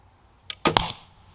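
A single arrow is loosed from a Black Widow KBX recurve bow, a quiet thump and short rattle lasting under half a second, with a steady high tone running in the background.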